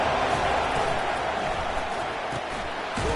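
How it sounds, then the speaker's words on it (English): A football stadium crowd swells into a steady, loud roar on third down as fans back the defense, a dense wash of noise that holds throughout without pause. "Decibels rising as the crowd gets behind this defense on 3rd down."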